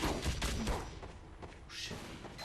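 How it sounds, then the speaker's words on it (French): Rapid automated fire from an Engineer's sentry turret in Team Fortress 2 rattles through a dense battle mix, loud at first and then thinning into scattered impacts and thuds. "c'était une tourelle. Les ingénieurs peuvent construire des tourelles."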